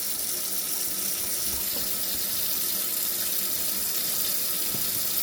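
Water runs steadily from a sink tap supplied by a GE Appliances 6-gallon mini tank electric water heater, a continuous close hiss with no talking.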